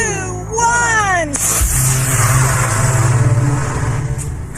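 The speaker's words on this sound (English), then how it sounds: "The engine blast gets the rocket moving off its launch pad." A rocket engine fires at launch and pushes the rocket off its pad. A loud, deep, rumbling roar starts abruptly after a brief rising tonal sweep and holds steady to the end.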